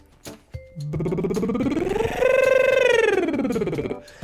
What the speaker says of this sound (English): With the lip trill, when the vocal folds separate, they sound like this.